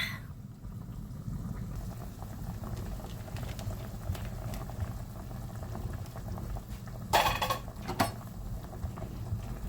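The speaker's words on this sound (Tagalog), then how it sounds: "Kulo-kulo lang siya dyan. Pakuluan lang natin." Law-oy, a Filipino vegetable soup with okra, boils in a pot with a steady bubbling simmer close by, with a couple of brief clinks near the end and no talk.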